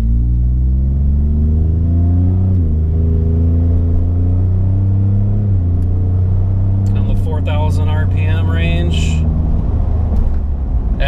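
Ford F-150 (2021–2024) fitted with an MBRP 4-inch cat-back exhaust accelerating, heard from inside the cab: a loud, deep engine drone rising steadily in pitch through several gear shifts, with a voice speaking briefly near the end.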